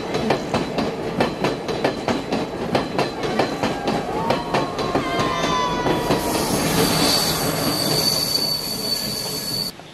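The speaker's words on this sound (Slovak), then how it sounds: "Po ktorom jazdí vlak, ktorý je považovaný za najkrajšiu jazdu vlakom vôbec na svete." A train on a scenic mountain railway in Sri Lanka rolls along loudly and close, with rhythmic clickety-clack of wheels over rail joints and long, high metallic wheel squeals that rise and hold through the second half.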